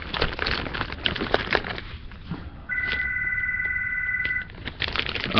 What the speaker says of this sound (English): Yeah, the phone's ringing, but I'm just gonna ignore it